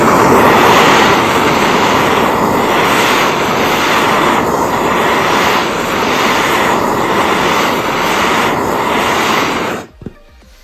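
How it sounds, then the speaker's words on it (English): A torch roars steadily and loudly, held close while heating solder on a leaking gas tank, the broad hiss continuing without a break for about ten seconds before it is abruptly shut off. "Let me see if I could dry it up a little with the torch."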